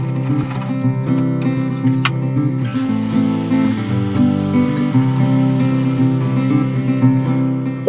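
A saw cuts right through a piece of wood for a gift box, making a loud, sustained mechanical whine with a shifting pitch and small knocks partway through.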